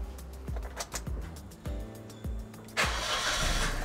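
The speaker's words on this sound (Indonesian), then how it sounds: "Oke, kita nyalakan mesin lagi ya" A car engine being started after an oil flush, with a rhythmic series of starter cranks that catches and settles into a steady running idle, close and moderately loud, with no voices.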